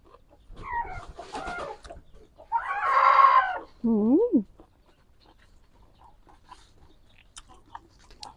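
A rooster crows once loudly and close by, with clucking fowl just before and quiet afterward.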